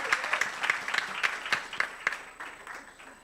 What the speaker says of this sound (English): Can you also give a round of applause to our presenters?